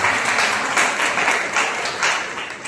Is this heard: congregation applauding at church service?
yes